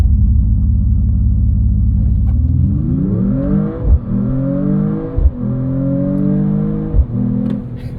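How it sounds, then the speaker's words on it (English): A 2026 Mercedes-AMG E53 wagon's 604hp inline-six idles with a low rumble, then revs hard through a rising launch start, with sharp gear changes cutting in between climbing pulls. "let's do one more race start towards the highway"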